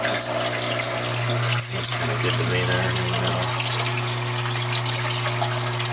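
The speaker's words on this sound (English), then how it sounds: "maybe I should adjust this a little bit so the bubbles are a little higher" Water bubbles and gushes steadily inside a DIY Rubbermaid tub aquarium sump, with a constant pump hum beneath it. Someone speaks briefly over the sound.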